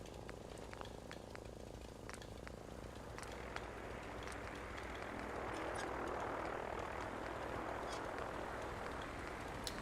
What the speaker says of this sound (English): Why are those bloody choppers all here?